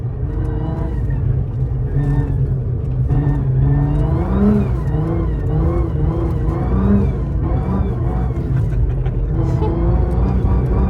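A Nissan R35 GT-R engine rumbles and revs repeatedly, rising and falling in pitch, loud and close, with some voices faintly underneath.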